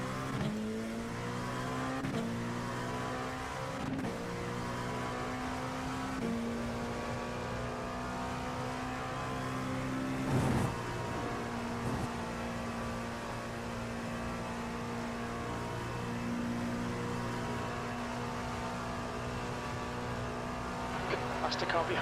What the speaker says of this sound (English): That's the car behind. They're racing us for position.